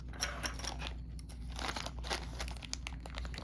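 A plastic bag of Axis & Allies & Zombies board game pieces crinkles and rustles up close in a steady run of crackling handling noise, with no talking.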